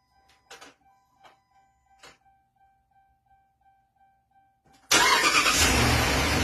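A 2011 Dodge Ram with the 5.7 Hemi engine, its starter newly replaced, starts up: several faint clicks and chimes come first, then the engine catches abruptly and runs loud and steady.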